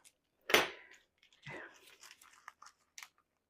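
Crunchy dehydrated berry fruit leather is bitten and chewed up close, a sharp crackling tear followed by a softer crunch and small scattered chewing crackles, all quiet.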